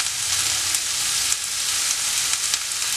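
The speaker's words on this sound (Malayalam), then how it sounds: "സവോളയും ഇതുപോലെ നല്ല പോലെ വഴറ്റിയെടുക്കണം." Onions sautéing in a hot pan for a potato roast give a steady, dense sizzle with soft crackling, close and even throughout, and no speech.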